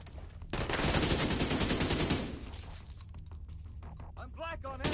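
Heavy gunfire in The Division 2, a loud machine-gun burst for the first couple of seconds, then scattered shots with breaking, shattering sounds and a voice speaking near the end.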